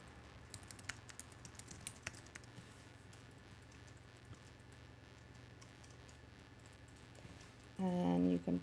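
Typing on a computer keyboard while entering a search term in a WordPress plugin page: faint, scattered key clicks in a quiet room, followed by a brief louder burst near the end.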